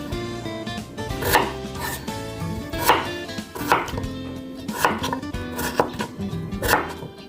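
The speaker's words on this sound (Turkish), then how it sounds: "Patatesimi de bir doğrayacağım." Knife chopping through potatoes on a board: sharp, evenly spaced thuds roughly every second, close and clear, over a steady background of music.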